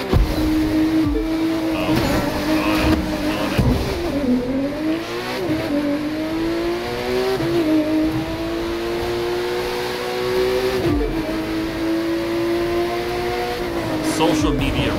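A car's engine roars under nitrous boost in the racing video game The Crew 2, a sustained revving drone that rises and dips over fifteen seconds, loud and steady, with game sound layered on top.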